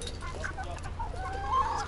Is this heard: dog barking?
no